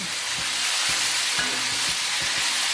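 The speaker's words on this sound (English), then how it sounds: "We got some frozen peas to go in there into that hot bacon fat" Frozen peas hitting hot bacon fat in a pan give a steady, loud sizzle and hiss, with low knocks and scrapes of stirring underneath and no voices.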